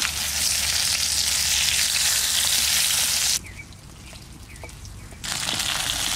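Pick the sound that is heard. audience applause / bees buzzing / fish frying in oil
fish frying in oil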